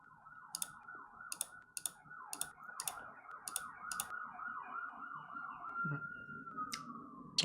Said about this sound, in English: Sorry for the emergency sirens.